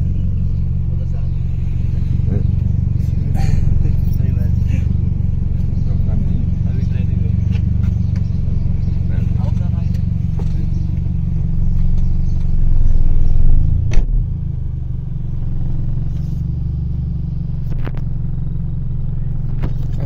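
A car rumbles slowly along a narrow, crowded lane in inner Lahore. Its low engine drone stays steady, with a brief clatter near the end, while people talk nearby.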